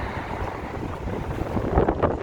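Gusty wind blows in downtown Chicago while walking, a loud rumbling buffet of air against the microphone, continuous with surging peaks and no talk.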